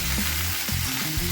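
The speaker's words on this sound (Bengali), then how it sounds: "ফুলকপিগুলো লাল লাল করে ভেজে নেব" Cauliflower florets frying in hot oil in a pan, steady loud dense sizzle throughout the short moment, close and continuous.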